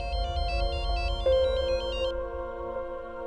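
A mobile phone rings with an incoming call from mom, a repeating melodic ringtone pattern playing loud and close for about two seconds before cutting off, with a steady low hum underneath.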